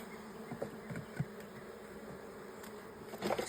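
Honey bees buzzing around hive frames, producing a steady close drone with a few louder individual buzzes passing near, and no voices.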